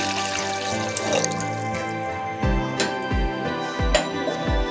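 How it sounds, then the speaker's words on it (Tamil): Water pours into a cup in several bursts, splashing and gurgling close by, with faint clinks in between, while making homemade mango juice. "இப்போ இதில் நீங்கள் 1 கப் தண்ணி ஆட் பண்ணிக்கலாம்."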